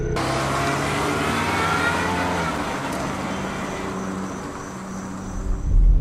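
A car with brake fluid in its gas tank drives along the road, a steady close engine hum and tire roar from inside the cabin, swelling slightly toward the end.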